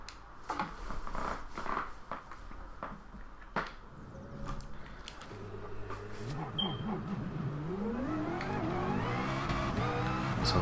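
McLaren VGT race car in Gran Turismo Sport, the engine revving and climbing through gears in rising sweeps after a few sharp clicks, growing louder and steadier toward the end with no talk over it.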